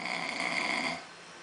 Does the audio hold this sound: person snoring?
yes